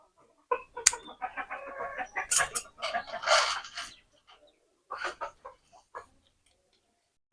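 Chickens cluck in scattered short bursts at close range, with quiet pauses between them, on a small poultry setup where hens of a tiger breed are kept with local country hens.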